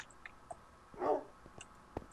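Dogs bark in the Minecraft video game: a few short, sharp in-game barks and yelps scattered through a quiet stretch, with one louder burst near the middle.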